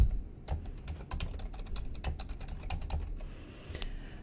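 Quiet typing on a computer keyboard as a workflow name is entered, with a steady patter of light key clicks over a low background hum.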